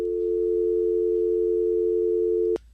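A telephone dial tone heard through a Broadcast Host phone interface feeding a mixer: a steady, unbroken hum holds for over two seconds and then cuts off abruptly with a click.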